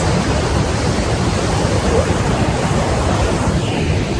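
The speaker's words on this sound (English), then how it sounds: "Oh, there's waterfalls." Tahquamenon Falls in Michigan's Upper Peninsula, a broad, continuous rushing roar of falling water, loud and steady with no talk over it.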